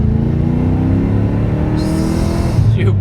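Mercedes-Benz 560 SL AMG with an M113K engine and manual gearbox, running without its supercharger connected, revs steadily and loudly at close range, its deep engine note rising and shifting near the end.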